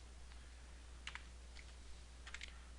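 Typing on a computer keyboard: a few quiet, scattered keystrokes in short clusters over a low steady hum, with brief pauses between bursts.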